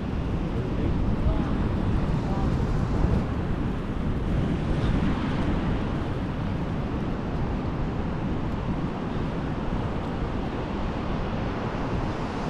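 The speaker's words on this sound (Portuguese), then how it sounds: "e olha lá que ondas grandes!" Steady roar of large ocean surf waves at Praia da Rocha, Portimão, with wind buffeting the microphone throughout, loud and unbroken.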